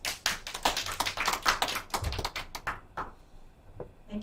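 Short bursts of clapping from a forum meeting audience fill the first three seconds with dense, quick hand claps, then thin out to scattered claps and quiet.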